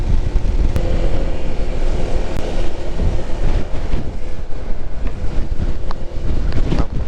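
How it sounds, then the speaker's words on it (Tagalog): Loud, continuous wind buffeting the microphone on Polillo Island, a heavy low rumble with gusty fluctuations throughout and no voices. "napakalakas ng hangin"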